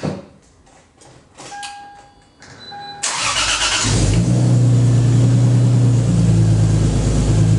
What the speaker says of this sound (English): I got the car to start, which is really awesome